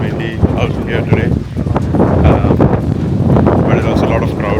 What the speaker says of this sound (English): Super windy out here today.